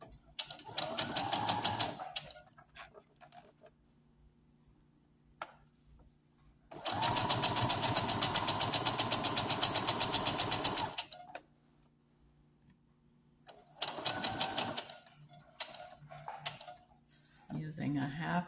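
A sewing machine stitches a straight seam across a neck pillow in three loud, rapid mechanical bursts of whirring and clatter, the longest about four seconds, with quiet pauses between.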